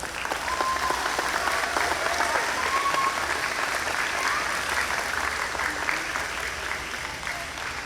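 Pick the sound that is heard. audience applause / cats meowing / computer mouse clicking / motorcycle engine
audience applause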